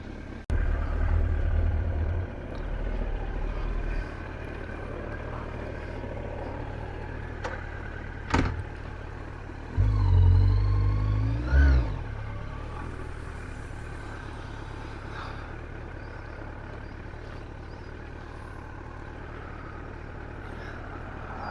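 A Yamaha FZ1 motorcycle fitted with a new windscreen is ridden, giving a steady engine drone and rushing wind, with throttle surges at the start and again midway, plus a sharp click.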